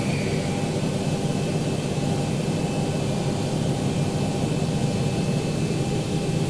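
Steady, loud broadband roar of a simulated Boeing 737 engine number 1 spooling up in X-Plane with the Zibo mod, a continuous airy whine and low rumble with no voices.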